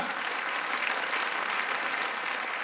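Audience applause at a French comedy sketch show, a continuous wash of many clapping hands that sounds fairly distant and soft, steady for a few seconds with no pause.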